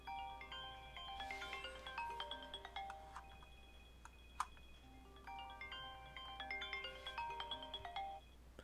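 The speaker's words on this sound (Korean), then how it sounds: "아들한테 전화가 왔었네요" Phone ringtone for an incoming call, a melodic electronic tune in two repeated bursts with a short pause between, fairly faint and without talk.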